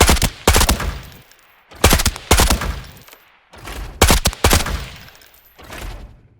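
Automatic gunfire from a new weapon in the video game Arena Breakout Infinite comes in about five loud, rapid bursts separated by short pauses and echoing tails.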